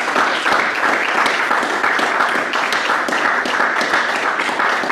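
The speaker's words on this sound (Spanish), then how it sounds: "Un aplauso." An audience claps after a talk on the history of Buddhism in China, a dense, even round of applause with a few sharper individual claps standing out, sustained for around five seconds.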